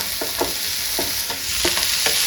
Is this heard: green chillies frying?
yes